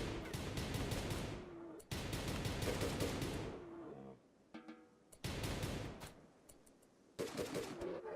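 Bursts of automatic gunfire in RimWorld, dense rattling volleys in several separate bursts with short gaps between them, loud and close, with no talk over them.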